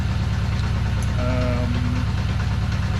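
A Kawasaki Z550 motorcycle engine idling steadily close by, with a continuous low, even pulsing throb and a brief faint whine partway through, and no voices over it.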